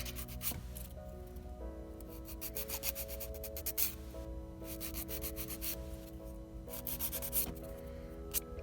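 A curved nail file rubs back and forth across a fingernail in quick, repeated close-up strokes, soft and scratchy, with gentle tonal music underneath and no talking.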